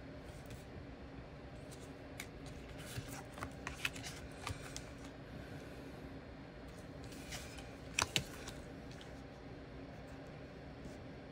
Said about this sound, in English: Now, I'm just going to put the cards down.